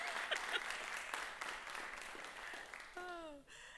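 A school district town hall audience gives a loud, sustained round of applause for the superintendent, dense clapping throughout, then a voice briefly speaks near the end as the applause fades.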